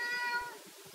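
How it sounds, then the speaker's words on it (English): A single short, plaintive cat meow, close by and fairly quiet, with no other sound around it. "that's my cat, if you heard that"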